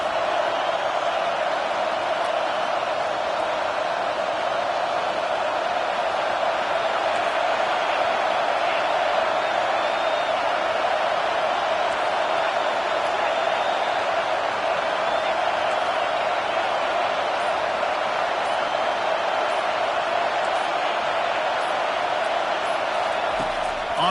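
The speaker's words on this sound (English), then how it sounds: "Listen to this crowd just shaking the girders of this place," A huge football stadium crowd roars in a loud, continuous wall of noise during a defensive play, steady and unbroken throughout, with a commentator's voice faintly under it.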